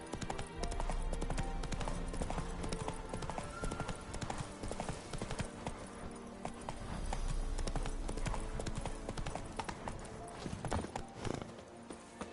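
A horse gallops steadily in The Witcher 3, its hooves clip-clopping in a fast continuous rhythm, close and prominent over game music, with occasional voices.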